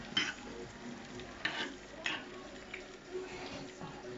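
Meat meatballs simmer slowly in tomato sauce with a soft, low bubbling, and a few light clinks and scrapes of stirring or utensils against a pan rise over it at irregular moments. The whole sound stays quiet and close.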